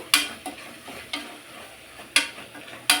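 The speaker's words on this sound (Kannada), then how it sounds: "ಎಣ್ಣೆ ಒಳಗೆ ಸೊಪ್ಪು ಸ್ವಲ್ಪ ಚೆನ್ನಾಗಿ ಫ್ರೈ ಆಗಲಿ ಇದು" Dill greens fry in oil with a quiet sizzle, punctuated by about five sharp scraping stirs of a spoon against the pan at irregular intervals.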